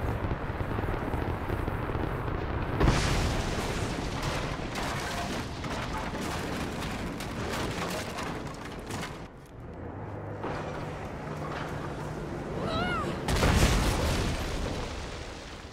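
A trebuchet shot lands in Rise of the Tomb Raider with a heavy boom near the start, followed by sustained rumbling debris and crashing, then a second loud impact toward the end, without talk.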